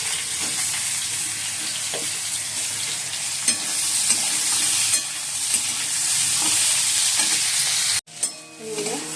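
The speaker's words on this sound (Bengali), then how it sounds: "আলুটা একটু ভেজে নিয়ে তারপর পেঁয়াজটা ভাজবো।" Potatoes fry in a pan with a steady, loud sizzle and hiss, broken by occasional scrapes and clinks of a stirring utensil, until the sound cuts out abruptly near the end.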